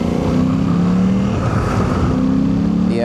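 A Suzuki V-Strom 800DE motorcycle fitted with a DNA air filter revs loudly and close, its engine note climbing and holding steady with throaty harmonics, alone without talk.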